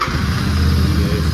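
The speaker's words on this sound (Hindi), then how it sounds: "एक बार अपन इसका एक्सहॉस्ट नोट भी सुनेंगे" Royal Enfield Continental GT café racer with a raw, open exhaust, idling with a steady deep thumping rumble, loud and close, continuous with no talk over it.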